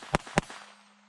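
A Taurus TX22 .22 pistol firing Winchester ammunition: two sharp, close shots about a quarter second apart, each followed by a short fading ring, with no talking.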